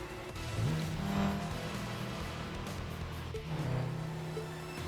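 A racing car in the Tokyo Xtreme Racer video game drives with a droning engine note that climbs and falls as it revs through gears, steady and fairly loud with no talking.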